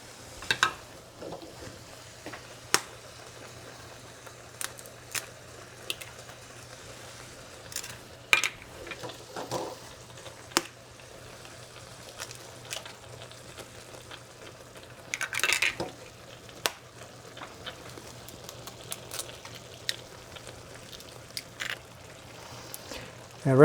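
Eggs are cracked into a smoked eggplant, tomato and garlic mixture frying in a pan, heard as scattered sharp taps and clinks amid a faint low sizzle, with brief quiet stretches between the knocks.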